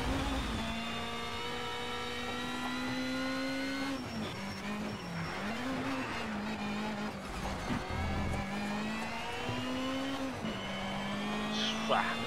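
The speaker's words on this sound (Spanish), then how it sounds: "¿Cómo peta el motor, Dios mío?" A race car engine in Need for Speed Shift 2 Unleashed drones loudly and continuously, its pitch rising and dropping through gear shifts, with a brief tire squeal near the end.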